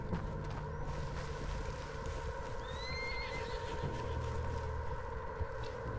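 A horse whinnies briefly amid steady Red Dead Redemption 2 game ambience, with a low rumble and faint hoof clops underneath.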